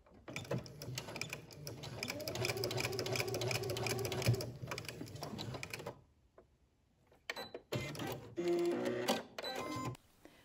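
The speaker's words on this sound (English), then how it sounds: "we're going to go to the sewing machine and insert a row of basting stitches" A sewing machine runs in a steady mechanical whir for several seconds, pauses briefly, then starts again in short, rattling bursts.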